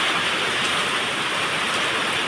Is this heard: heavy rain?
yes